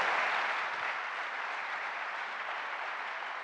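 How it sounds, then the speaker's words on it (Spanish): Church congregation applauding for God, a broad, even roar of many hands clapping that holds steady and fades slightly toward the end, with no voices on top. "Denle un fuerte aplauso a Dios."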